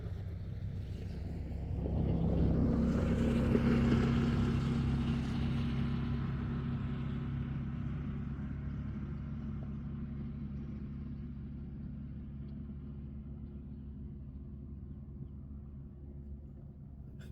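A four-wheeler drives past outdoors, its engine rumble swelling to a loud peak over a couple of seconds and then fading slowly into a long, steady drone.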